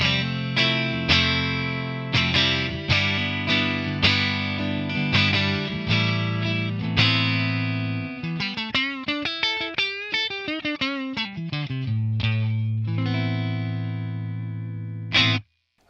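Clean, scooped electric guitar played through a Tonex capture of a brown-panel Fender Vibroverb amp with a compressor on and the reverb off, ringing chords and a descending run of single notes, loud and alone.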